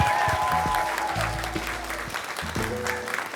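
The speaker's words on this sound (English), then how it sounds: "A round of applause for our host, Major Jackson, as well." Steady applause from an audience fills the room, continuous clapping with some low background tones underneath, holding fairly level throughout.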